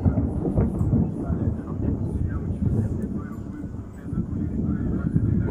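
Rolling thunder from a summer storm over Komsomolsk-on-Amur, a continuous low rumble with wind noise that stays fairly loud and steady throughout, outdoors with no speech.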